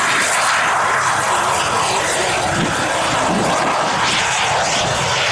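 A loud, continuous roar of a large scale model F-18 jet's engine at full power on takeoff fills the whole stretch, steady and harsh with broadband rushing noise.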